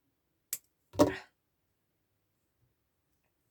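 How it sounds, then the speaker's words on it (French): A bought item being unwrapped from its packaging: two short, close crinkling rustles half a second apart, the second louder and longer, with quiet around them. "je le déballe avec vous"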